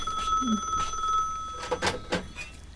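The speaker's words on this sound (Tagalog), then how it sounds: "Ay, agkir-kirireng ti telepono." A telephone bell rings in short bursts, a steady electronic tone followed by a few clattering rings near the end, fairly close and clear with no speech.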